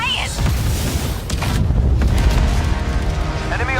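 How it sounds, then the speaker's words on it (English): Heavy artillery fire booms steadily in an Ace Combat trailer, a dense rolling barrage of low thuds and blasts, with voices talking over the din. "Enemy artillery intensifying."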